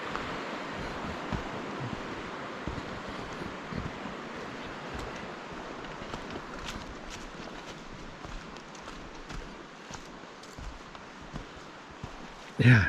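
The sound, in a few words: Sol Duc River flowing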